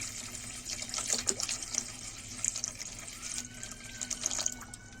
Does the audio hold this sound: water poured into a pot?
yes